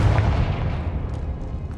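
A Confringo fire-blast spell explodes in Hogwarts Legacy, a single loud, low booming burst with a rumbling tail fading over about two seconds.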